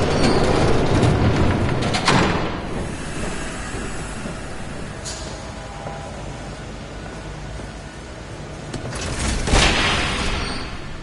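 A train rumbles past in The Batman Telltale game, a loud sustained roar with rattling bursts that swells at the start and again near the end, with no talking over it.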